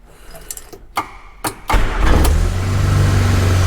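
A 1967 Morris Minor car is cranked over after a few clicks and knocks, then its engine catches and settles into a steady, close idle that runs on to the end.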